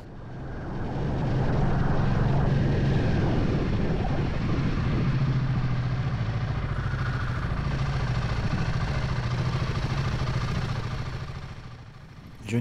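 A Royal Enfield Himalayan 450 motorcycle engine hums steadily with a low, continuous drone while riding through small town streets, holding a constant pace before easing off near the end.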